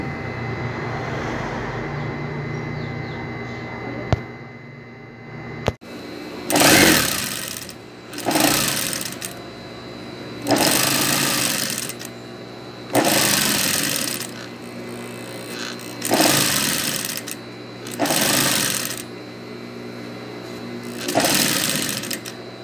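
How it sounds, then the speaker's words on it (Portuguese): A sewing machine stitching the finishing edge of a carpet runs in loud bursts of about a second each, roughly six runs separated by brief pauses, with a couple of sharp clicks before the first. "Terminando de costurar aqui"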